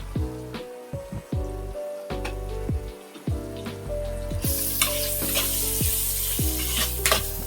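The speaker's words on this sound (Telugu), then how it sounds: "వేసి వేయించాలి" Turmeric and chili powder frying in hot oil in a pan for a sesame-spiced ridge gourd fry, with bursts of loud sizzling, spoon scrapes and stirring clatter, then a continuous hiss swelling up midway.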